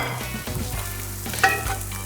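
Broccoli and onions sautéing in a pan give a dense, steady sizzle with low rumbling and a brief bright clink of the utensil, close and without speech.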